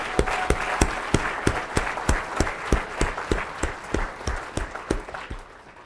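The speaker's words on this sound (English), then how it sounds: "So give yourself a round of applause" A round of applause at a national company meeting, heard as steady, evenly spaced claps in a regular rhythm that keep going for several seconds at moderate loudness, with no talk over them.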